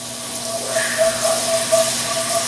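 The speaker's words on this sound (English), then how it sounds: "I add a little bit of milk, whole milk." Whole milk hits a hot blonde roux in a pan with a steady, close sizzling hiss, broken by faint bubbling pops.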